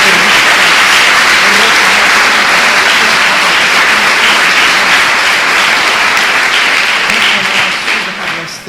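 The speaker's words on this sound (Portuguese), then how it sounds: "Mais uma salva de palmas ao nosso Deus." Sustained applause fills a church congregation, dense and steady clapping that carries on for several seconds before easing off slightly at the end.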